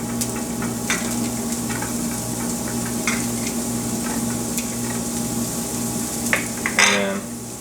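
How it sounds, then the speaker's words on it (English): Onions and peppers hiss in a pan, a steady, moderate sizzle under a low hum, broken by occasional scrapes and clinks of a utensil and a brief louder burst near the end. "The next thing I'm going to do is going to put my onions and peppers on the pan"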